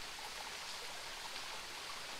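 Water rushing over a mountain waterfall of rocks high in the hills, a soft, even hiss of flow, distant and faint, steady without breaks.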